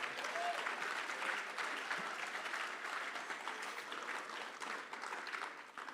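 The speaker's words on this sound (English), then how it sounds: "Hands of applause." Audience applause at a conference hall, a dense, steady patter of many hands clapping at a distance that fades slightly toward the end.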